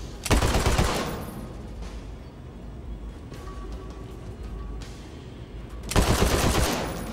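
Automatic gunfire from a gun in the video game Borderlands 3: two loud rapid-fire bursts, one at the start and one near the end, with a steady game-sound background between them.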